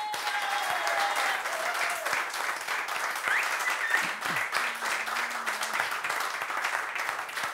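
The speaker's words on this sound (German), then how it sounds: "Großer Applaus, wie immer" A live stage show audience at Live im Lamm in July 2012 claps warmly and steadily for several seconds while a low sustained tone hums underneath.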